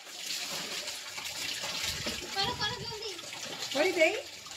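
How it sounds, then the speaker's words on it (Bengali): Water splashes and runs as two brothers bathe, soft sloshing under children's voices talking close by. "দুই ভাই স্নান করতেছে।"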